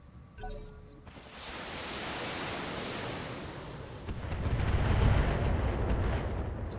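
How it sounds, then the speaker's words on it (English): Turret fire in the mech combat game BattleTech BTA 3062, heard as a dense, rumbling barrage of blasts that builds and swells louder toward the end, with no voices over it. "the turrets are starting to fight back"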